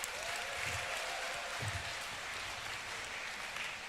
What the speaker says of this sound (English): That applause is not enough.